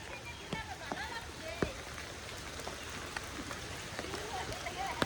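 Rain falling outdoors near a riverbank pasture, a steady soft patter of drops with scattered sharper splashes, faint and continuous in the background.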